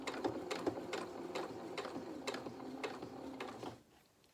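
Domestic sewing machine topstitching a small pair of doll-sized jeans at the pocket, with a steady run of close, rhythmic stitching bursts that stop near the end, heard up close with no talking.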